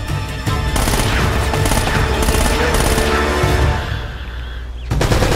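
Enemy machine gun fire in Uncharted: Drake's Fortune, loud dense bursts of rapid gunshots with booming impacts, nearly continuous, easing briefly near the end before resuming.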